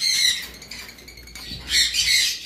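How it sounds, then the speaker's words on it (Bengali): Double red factor hyper pineapple conures at a bird sale give harsh, bright squawks in bursts, loudest near the start and again toward the end, with no talk. "পাইনাপেল কোনোর পাখি, ডাবল রেড ফ্যাক্টর হাইপার।"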